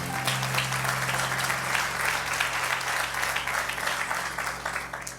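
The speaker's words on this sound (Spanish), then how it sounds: "Démosle un fuerte aplauso al Señor." A church congregation gives sustained, dense applause during a Sunday service, continuous clapping holding steady at a moderate level before tapering slightly at the end, with no voices over it.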